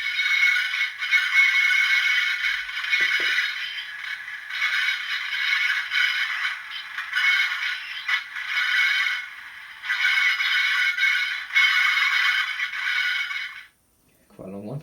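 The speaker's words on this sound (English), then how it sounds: "Number 16 is slow flange squeal." A Hornby TTS sound decoder for a Class 20 locomotive plays a slow flange squeal: a long, loud, grinding metallic screech that swells and dips for about fourteen seconds before stopping, with a brief voice at the very end.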